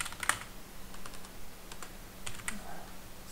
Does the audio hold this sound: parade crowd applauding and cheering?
no